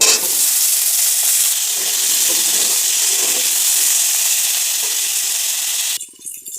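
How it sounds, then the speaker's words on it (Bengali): Potatoes and chopped onion frying in hot oil in a heated wok, giving a loud, dense, continuous sizzle up close that cuts off abruptly near the end. "আলুটা আমার প্রায় ভাজা হয়ে এসছে,"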